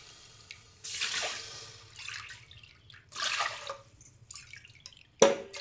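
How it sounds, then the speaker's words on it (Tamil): Water splashes and pours into a metal pressure cooker holding moong dal in a few separate gushes, ending with a sharp metallic knock. "பருப்பு எடுத்த கப்புலேயே நாலு கப் அளவுக்கு தண்ணி சேர்த்திக்கலாம்"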